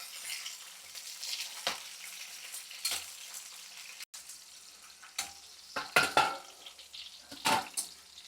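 Broad beans fry in hot oil for a pickle, producing a soft continuous sizzle broken by a handful of sharp scraping and clinking stirs that grow busier toward the end.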